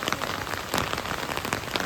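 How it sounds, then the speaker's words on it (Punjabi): Heavy rain pours steadily onto a flooded home and courtyard in Punjab, a dense, continuous hiss of drops striking water and hard surfaces, close and loud throughout with no talking. "ਕਿੱਥੇ ਕਿੰਨਾ ਮੀਂਹ ਥੋੜਾ ਨਹੀਂ ਹੈਗਾ"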